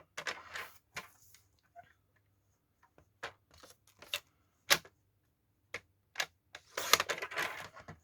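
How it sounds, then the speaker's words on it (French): Paper edges for a shabby-style card are trimmed in a string of faint, sharp clicks and snips, spaced irregularly, with a denser scraping burst near the end and quiet gaps between. "Je coupe bien les bords."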